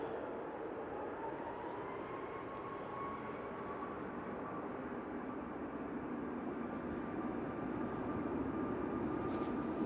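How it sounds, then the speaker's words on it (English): Ryanair Boeing 737 MAX 8 departing Manchester for Tenerife, a soft, distant, continuous engine drone with a faint steady whine, rising slightly toward the end and free of talk. "Ryanair 737 MAX 8 to Tenerife,"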